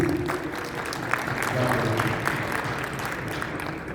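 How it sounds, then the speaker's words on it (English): Applause fills a large gala hall during a fundraising pledge drive, a dense, continuous wash of many hands clapping at moderate distance with crowd murmur underneath. "Give it a round of applause, please."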